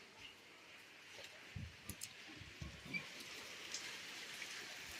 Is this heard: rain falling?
yes